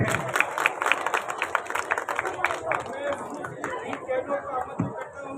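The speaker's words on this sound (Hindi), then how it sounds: "जोरदार तालियां हो जाए।" Clapping at a Pipa Kshatriya Darji community ceremony honouring talented students: a dense burst of hand claps that thins out into crowd chatter and voices.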